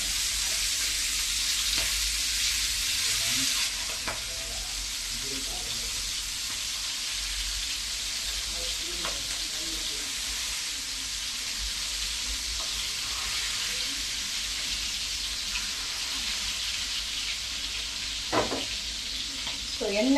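Stuffed bondas fry in oil in a non-stick pan, giving a steady, loud hiss and crackle throughout with occasional light clicks of a utensil, close by.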